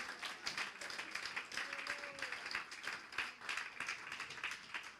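A church congregation applauds during a French-language sermon, steady clapping from many hands that carries on without break, moderately loud.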